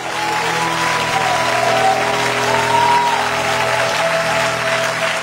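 Sustained applause from a church congregation, a dense continuous clatter of many clapping hands with a sustained sung or hummed tone underneath, steady throughout.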